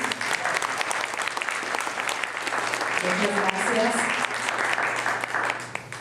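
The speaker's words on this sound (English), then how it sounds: "Let's give them a round of applause, please." An audience at a university town hall applauds steadily, a dense wash of clapping that holds throughout while someone briefly speaks over it.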